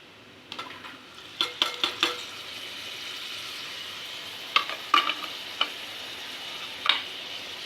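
Carrot, tomato, turmeric and garam masala stirred in a pan of oil, with clusters of metallic scrapes and taps from a spoon against the pan over a soft, steady sizzle.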